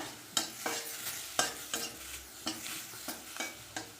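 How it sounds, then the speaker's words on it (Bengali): Green chilies fry in a pan over high heat, stirred with a regular run of sharp spatula scrapes and clacks roughly every half second over a light sizzle, close and clear. "লঙ্কা প্রথমে দিয়ে দেবো, দিয়ে এভাবে নাড়তে থাকবো"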